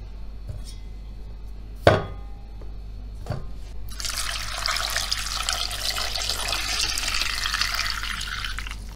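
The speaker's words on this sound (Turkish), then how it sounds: "Üzerini geçecek kadar su ilave ettim." Water runs from a tap into a pot holding three potatoes for boiling. A couple of sharp knocks come first, then a steady rushing stream for the last five seconds.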